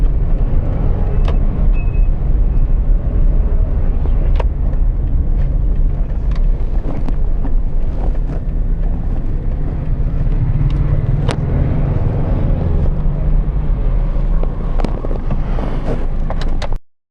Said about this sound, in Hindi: ये भी गाड़ी पार्क करते हैं और फिर आपको दिखाते हैं जी।